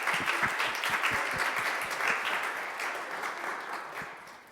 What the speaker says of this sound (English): Another round of applause for Daniel